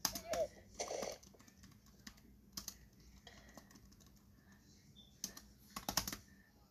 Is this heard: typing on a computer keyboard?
yes